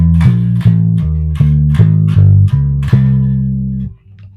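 Walking bass line in a root-approach walk down, about eight plucked notes stepping in a steady pulse, loud and close with no other sound, ending on a held note that fades.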